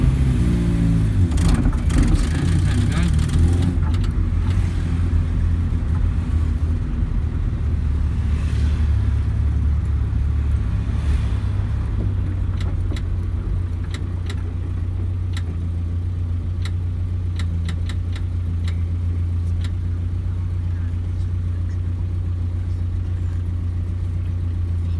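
Morris Minor 1000 classic car with its engine running while driving through an old brick town on a fine day, a steady low drone that holds at a constant level throughout, with no voices.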